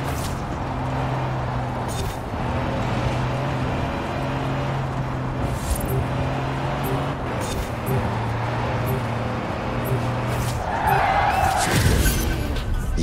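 Car drifting and skidding in Forza Horizon 4, heard as a steady engine drone with a rising tire screech near the end, set against game music and background noise.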